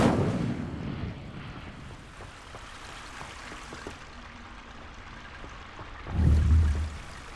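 Incendio fire spell cast in Hogwarts Legacy: a burst of roaring flame at the start, then a low crackling rumble, and a second deep fiery whoosh near the end, moderately loud with no talk.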